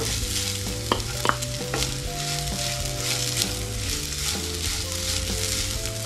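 Grated fresh coconut sautéed in ghee for modak filling, a continuous close sizzle with steady stirring and a few sharp clinks of a spoon against the pan, no voices.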